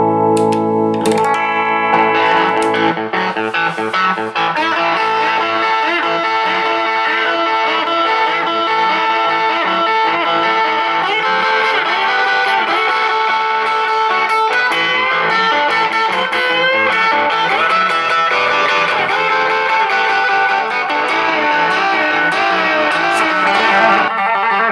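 A Philippe Dubreuille Johnny Thunders Tribute Junior electric guitar played loud and distorted, strummed chords ringing continuously with a slightly brightened tone, alone without talk.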